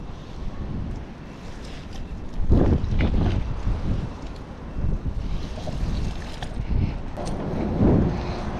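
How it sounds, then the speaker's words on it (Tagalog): Strong wind buffets the microphone out at sea from a small fishing boat, roaring in uneven gusts with water sloshing underneath and no clear speech. "Lakas ng hangin eh."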